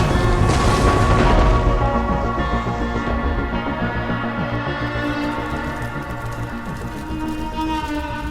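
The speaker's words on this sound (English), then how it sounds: "the Muslims initiated a devastating bombardment" Siege bombardment in a medieval battle game depicting the fall of Acre in 1291, with heavy booming impacts and rumbling crashes in a dense, loud wall of battle noise that fades slightly over time.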